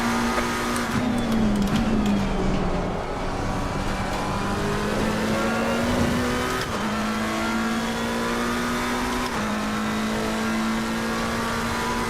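Sim racing car engines drone and rev in a race, a steady loud engine note with gear-shift pitch drops and other cars faintly around, no talking.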